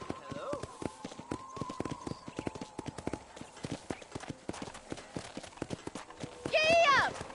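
Rapid hoofbeats of a horse in Red Dead Redemption clatter in a steady galloping rhythm, close and clear, with a horse whinny near the end.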